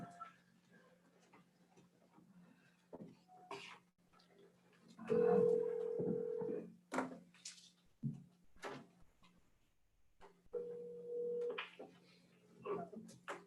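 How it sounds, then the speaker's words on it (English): Speakerphone dialing in a county commissioners court meeting, two sustained electronic tones with short beeps between, under murmured talk and room noise. "You want to get BJ on the phone?"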